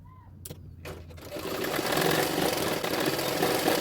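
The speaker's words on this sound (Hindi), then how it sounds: "इसी तरह से फोल्ड करते हुए सिलाई डालते जाऊँगी" A sewing machine stitches folded blouse fabric, starting after a few quiet clicks and handling sounds, then settling into a steady, fast mechanical whirr that grows louder and continues close up to the end.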